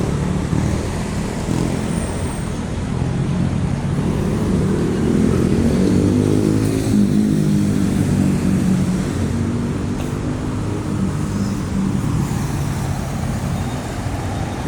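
Continuous roadside traffic on EDSA at Boni, Mandaluyong: a steady wash of passing cars, trucks, buses and motorcycles, with a heavier vehicle rumbling past midway.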